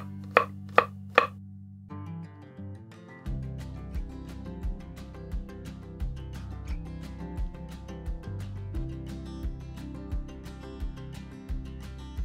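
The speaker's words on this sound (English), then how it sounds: "We're going to cut this little green onion." Knife chopping a small green onion on a cutting board, a quick run of sharp cuts at the start followed by a steady stream of close, rhythmic chops; no talking.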